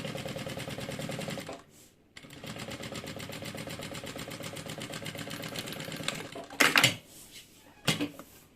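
A sewing machine stitches a bag lining with a steady, close mechanical whir that runs for several seconds, stops briefly, resumes, and ends with a couple of louder clattering bursts.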